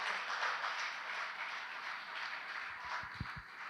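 Faint applause from a church congregation, a soft steady patter of clapping heard at a distance with a few low thumps near the end.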